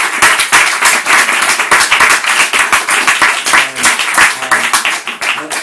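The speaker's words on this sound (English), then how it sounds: "We'll give Lawrence and all our readers one more round of applause." Small audience at a university MFA reading applauding the readers, close, dense clapping with distinct individual hand claps and a few voices underneath.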